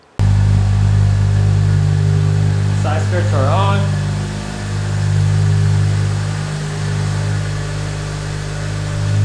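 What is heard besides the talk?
car exhaust revving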